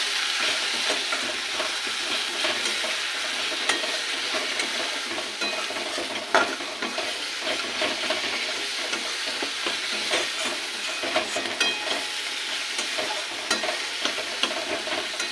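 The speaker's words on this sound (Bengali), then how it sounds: "এটাকে একটু ভালো করে ভেজে নেব।" Tomato fries in a pan with salt, cumin powder, chilli powder and coriander powder for cauliflower khichdi, producing a steady bright sizzle with frequent scraping stirs and a few sharper taps from the spatula throughout.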